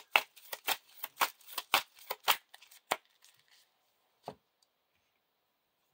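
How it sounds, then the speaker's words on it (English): A deck of playing cards for the Lord of the Rings card game is shuffled in quick riffling bursts for about three seconds, then a single soft tap follows after a pause, close and quiet. "Now we have the burden cards shuffled into the deck."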